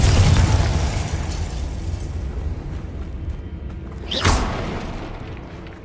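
A Confringo fire spell explodes in Hogwarts Legacy with a heavy, booming blast up front that rumbles and fades, then a sharp fiery burst pops out near the end.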